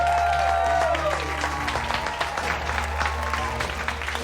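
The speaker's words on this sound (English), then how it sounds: "Give yourselves a round of applause." Cooking-competition kitchen crew and staff applauding at the end of a restaurant service shift, a sustained crowd clap over a low hum of kitchen equipment, with voices mixed in.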